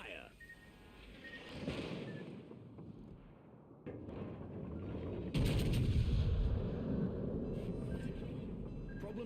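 Heavy naval gun salvos booming from a warship in a naval combat video game, with a deep rumbling blast midway and sustained low roar, under a background of game sound and some talk.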